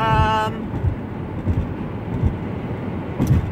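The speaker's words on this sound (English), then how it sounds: "I'm looking at this train over here" Train rolling past nearby, a continuous rumbling wash with periodic low thumps from the wheels over about three and a half seconds, fairly loud and with no voices.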